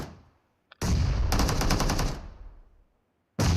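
A loud AK rifle in PUBG Mobile fires a sustained close burst of rattling shots that fades out, and a second burst starts just as the clip ends.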